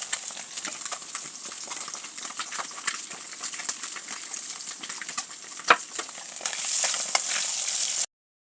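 Food frying in a pan while eggs and potatoes are prepared, a crackling sizzle with scattered sharp pops and clinks that grows denser toward the end, then cuts off abruptly.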